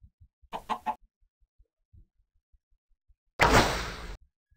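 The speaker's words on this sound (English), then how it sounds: "See if I can get another chicken hatch." Chicken clucking in a Minecraft-style video game, with a short burst of clucks followed by a louder, sustained noisy hatching or popping effect, amid soft scattered clicks and footsteps.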